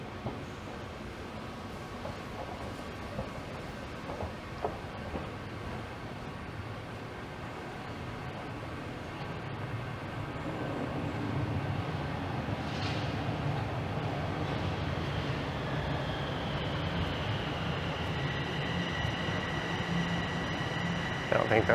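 A Line 4 subway train rumbles through an underground station, a low steady roar that swells louder in the second half, with faint high squeals and distant voices.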